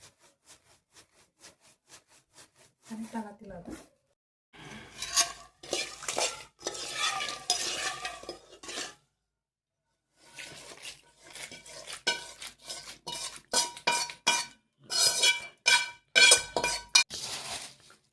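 Churumuri, puffed rice with red chilli, oil and masala, tossed by hand in a bowl, giving repeated rustling, clinking bursts in irregular rhythm, loud and close with brief pauses and no talk.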